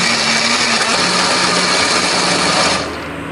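An electric blender grinds spice paste loosened with a little water or oil, a loud, steady motor whine that runs close by and then cuts off near the end.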